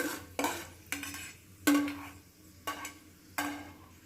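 Fried poppy seeds being moved from a pan into a bowl, with a spoon clinking and scraping against metal cookware in about six sharp, separate knocks and scrapes, close and clear, with no talking.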